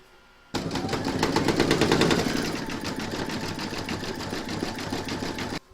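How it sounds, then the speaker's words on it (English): An embroidery machine zigzag-stitches a stacked snowman piece in the hoop, starting abruptly into a rapid, rhythmic mechanical chatter that runs steadily and close until the end. "You're now going to pop your hoop back into your machine, and it's going to zigzag along here and down here"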